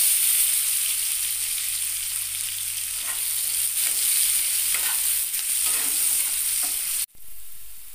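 Chopped onions hit hot oil already fragrant with nigella seeds and dried chilli for a soybean bharta, giving a loud, steady sizzle and frying hiss with occasional stirring scrapes, cut off abruptly near the end.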